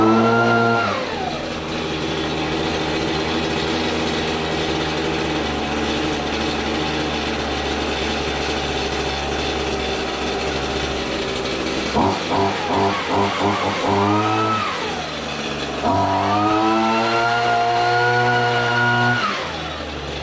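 A Toro string trimmer's small two-stroke engine runs continuously after a carburetor and fuel line replacement, droning at high revs, with pitch sweeping down and back up as the idle is adjusted and a brief sputtering stretch in the middle.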